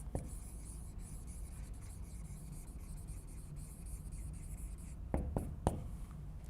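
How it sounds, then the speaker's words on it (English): The word Reconstruction handwritten fast with a pen on paper, a steady close scratching of strokes that continues throughout, ending with a few sharp taps. "look how long it takes me, even if I write fast, to write that word"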